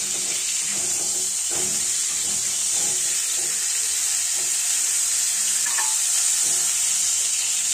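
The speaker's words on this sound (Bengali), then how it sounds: "ফুলকপিটা একটু ভাজা হয়ে গেলে" Cauliflower fries in hot oil with turmeric added, a dense, continuous sizzle with soft stirring knocks underneath, close and steady throughout.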